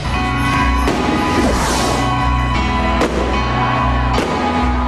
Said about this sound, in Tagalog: Dinayo ng mga Batanggenyo ang isang mall sa Lipa para panoorin ang magarbong fireworks display.